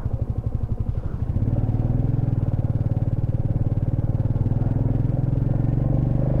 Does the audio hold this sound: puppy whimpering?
no